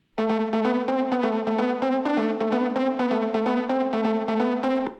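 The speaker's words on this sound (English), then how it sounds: "So this is a textured pluck, meaning you can layer it with another sound." A bright, buzzy plucked synth preset, a textured pluck meant for layering in techno, plays a fast, steady rhythmic pattern of short repeated notes, slightly gritty and layered with harmonics, with no voices.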